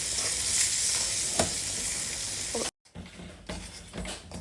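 Melted local ghee bubbling close to the boil in a pan, a steady broadband sizzle and crackle with a few small pops, then a brief cut to a softer, quieter sizzle.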